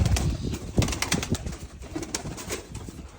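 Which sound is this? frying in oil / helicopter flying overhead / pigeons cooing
pigeons cooing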